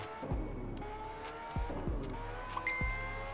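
A car driven in a GTA San Andreas online FiveM mobile server carries a steady engine hum, with several short thumps and bumps breaking through at intervals.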